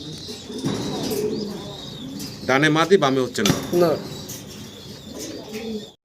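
Fancy pigeons, including a Mundian, coo softly in short throaty bursts while someone talks over them for most of the stretch.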